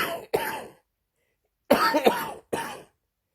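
A person with suspected Covid-19 coughs in two clusters, first a quick double cough, then after a pause a harsher burst of three.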